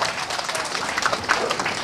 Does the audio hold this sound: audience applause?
yes